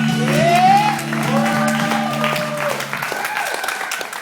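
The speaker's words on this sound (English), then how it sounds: "big round of applause" Audience applause at a comedy open mic night fills the room, a steady wash of clapping with whoops and cheers rising over it, fading slightly toward the end.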